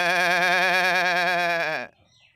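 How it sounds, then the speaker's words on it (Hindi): A goat bleats once in a long, wavering, strongly harmonic call lasting nearly two seconds, loud and close, then cuts off into quiet. "गोट, गोट मींस बकरी।"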